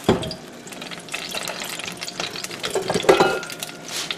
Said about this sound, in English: that oil is doing exactly what it's supposed to be, snap, crackling, and popping